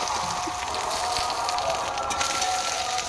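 Long-cut potatoes and drumsticks fry in oil with chili and cumin. A dense, even crackling sizzle that sounds almost like rain continues steadily through the whole moment.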